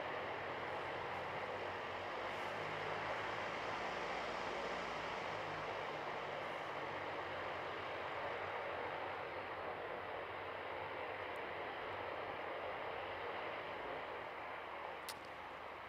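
Jetstar jet airliner taking off at Christchurch International Airport in dead calm conditions, a steady, dense broadband engine roar held at constant loudness throughout, distant and unbroken with no voices.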